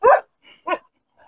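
Young puppies, about four months old, yelp and bark in short bursts: a loud close yip, then two softer whimpering barks and a faint whine, with silence between.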